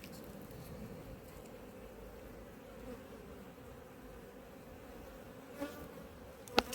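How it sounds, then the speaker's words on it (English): Honeybees in an open apiary hive give off a dense, continuous buzzing hum, close and steady throughout, with a couple of sharp faint clicks near the end. "A lot of bees in here."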